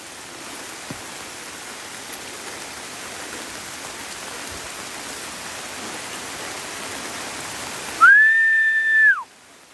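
Heavy rain pours on Gunung Salak mountain as a dense, steady hiss that lasts throughout, with a brief clear whistle-like tone rising and falling near the end.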